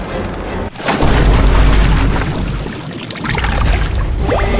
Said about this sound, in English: The pipe is going to explode!